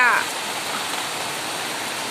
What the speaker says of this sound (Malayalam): ഇപ്പോൾ ദേ ഇവിടെ മഴയാട്ടോ അപ്പോൾ ഇവിടെയും നല്ല മഴ കിട്ടി